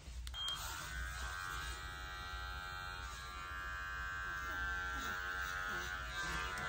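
Electric clipper buzzes steadily and close while trimming the face of a Shih Tzu mix dog, a continuous motor hum with slight load changes as the blade moves through hair.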